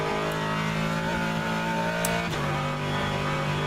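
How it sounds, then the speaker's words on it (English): A Corvette race car in rFactor 2 roars steadily and loudly at Kyalami, its engine a constant dense drone with slight pitch shifts as it corners through a bump. "it's because this engine is so loud. This Corvette is so loud."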